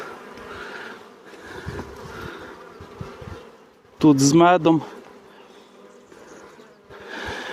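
Honey bees hum steadily throughout a spring hive inspection of an agitated colony, with a loud, close burst of buzzing in the middle as bees fly near, while someone talks intermittently over the drone.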